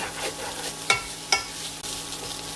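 Capsicum rice with soy sauce and pepper being stirred in a pan over a high flame: a soft, close sizzle with two or three sharp scraping strokes and no voices.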